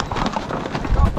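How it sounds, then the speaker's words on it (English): Mules and horses being packed for a trail trip stamp and shuffle in a brief, loud jumble of hoof thuds mixed with voices. "Mules and horses were protesting."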